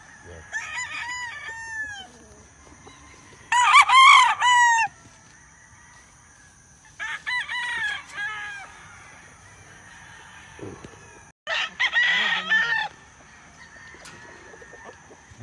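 A Lemon 84 gamecock rooster on a farm crows loudly and close, four separate drawn-out crowing bouts spaced by quiet gaps, with other fowl faintly in the background.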